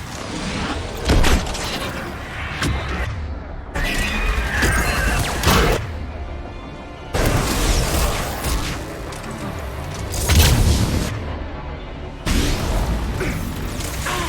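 Missiles launching and exploding in Mass Effect 3, a series of loud booms, whooshes and crashing impacts in bursts with brief drops between them, mixed with dense battle noise.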